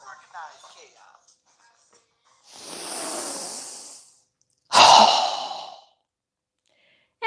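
A strong, forceful breath pushed out during a guided yoga breathing exercise, preceded by a softer breathy exhale and standing out loud and close in a quiet room.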